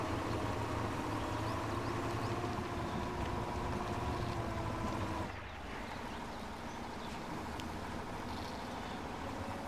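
In the off-road driving game Spintires, a truck pulling a heavy trailer revs and strains. Its engine makes a loud, continuous droning rumble that dips slightly in pitch and level about halfway through, with no talking.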